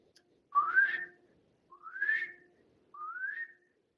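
Three rising whistles, each about half a second long, evenly spaced and clear, made by a person imitating a call heard in the woods of southern Missouri.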